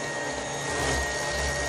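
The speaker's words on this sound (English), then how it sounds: "we have the UV sanitizer vacuum" A UV sanitizer vacuum cleaner runs on a spa floor, a close, loud, steady motor whine with a broad airy hiss and no talking.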